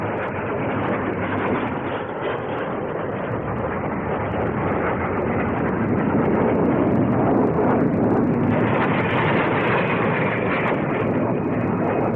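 Loud, steady roar of a Jet Provost jet aircraft passing at the 1959 Farnborough air display, sustained throughout with a slight rise in intensity toward the end, no voices.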